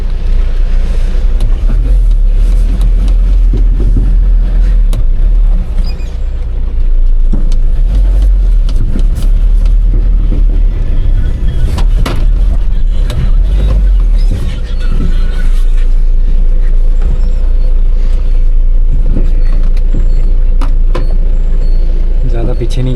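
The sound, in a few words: Mahindra Bolero pickup engine driving in third gear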